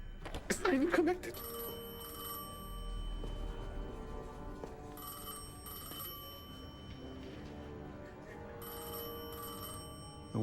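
Bell of an old telephone ringing in a bright metallic burst, then fading into a sustained tonal hum and faint rings over a low murmuring background.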